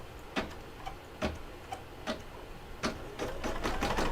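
A home embroidery machine stitches an appliqué mug rug, giving a quick run of sharp, regular clicks and needle taps that grow busier and more continuous toward the end, close and moderately loud with no talking.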